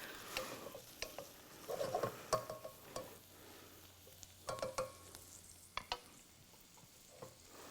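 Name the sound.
green curry ingredients sautéing in a pan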